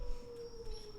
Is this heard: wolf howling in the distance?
yes